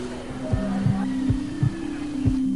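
Repeated heartbeat sound effect, low thumping pulses at a steady rhythm about every 0.4 seconds over a constant hum, used in a news report on a child with congenital heart disease.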